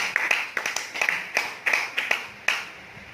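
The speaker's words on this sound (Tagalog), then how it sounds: "Isa nga pong palakpak sa Panginoon." Congregation clapping for the Lord at a church worship service, about a dozen sharp hand claps in an uneven rhythm, fairly close and moderately loud, with no voices.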